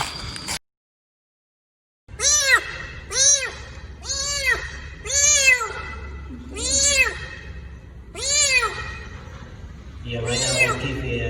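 A scared rescued kitten meows repeatedly, about seven clear, rising-falling cries spaced roughly a second apart, close and loud after a brief silence at the start.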